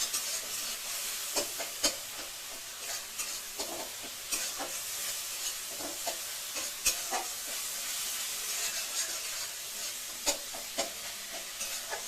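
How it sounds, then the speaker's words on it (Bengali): Spices with turmeric being sautéed in a pan for a pumpkin and bhola fish dish, giving a steady close sizzle and hiss with repeated scraping stirs of a spatula throughout. "ভালো করে কষিয়ে নেব"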